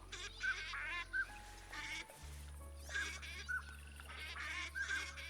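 Pintail ducks quacking in theHunter Classic, a string of short nasal calls repeating in bursts over a steady low engine-like drone, fairly close and clear, with no talking.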